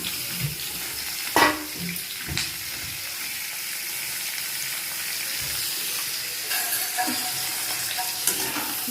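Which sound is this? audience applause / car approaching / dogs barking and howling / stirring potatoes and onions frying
stirring potatoes and onions frying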